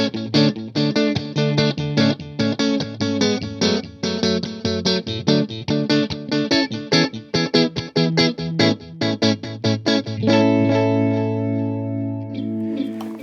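An electric guitar played through a Wampler Catacombs pedal set to digital delay with room reverb picks out rapid repeating notes, with echoing repeats in tap-tempo quarter notes, then rings out on a sustained chord that decays.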